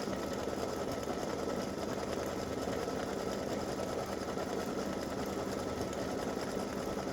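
Embroidery machine stitching freestanding-lace dog paw earrings, preparing satin stitching around the paw's bottom edge, runs in a rapid, even mechanical hum with fine repetitive needle ticks, quiet and steady throughout.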